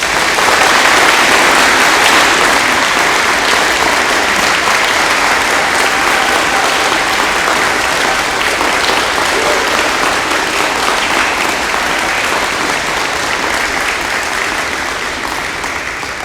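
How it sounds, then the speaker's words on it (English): A sustained round of loud audience applause at a high school Marine Corps JROTC awards ceremony, dense and even clapping that carries on for over fifteen seconds before gradually tapering off. "please join me in a round of applause for all of our award recipients this evening"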